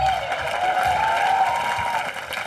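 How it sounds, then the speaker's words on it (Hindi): Loud studio audience applause at a televised comedy show, a dense steady wash of clapping over the full stretch, with a whistle-like tone running beneath it. "मेरे नाम पे जोरदार तालियां"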